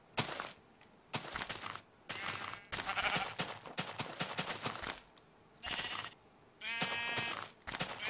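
Sheep of mixed colours bleat repeatedly on a mountain shrine site, several drawn-out, wavering calls close by with short gaps between them, and no talk.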